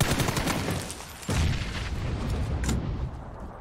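Close-range gunfire in PUBG on the Erangel map with an M249 and an AWM, a dense rattle of shots and a heavy hit partway through, loud and close, no talking.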